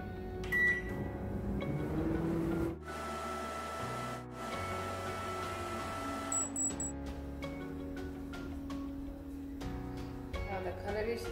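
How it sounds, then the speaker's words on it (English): A microwave oven hums steadily while dehydrating rose petals, a low droning whir broken by a few clicks and faint mechanical ticks, with no one speaking. "Now we'll keep these petals in the microwave for 1 minute to dehydrate these petals."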